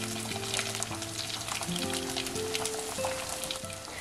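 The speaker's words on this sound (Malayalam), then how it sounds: "നല്ലപോലെ വഴറ്റി കൊടുക്കാം." Onion, green chili, ginger, curry leaves and dried red chili sauté in oil, a dense steady sizzle with crackling pops running the whole time, close and loud, under faint steady background tones and no talking.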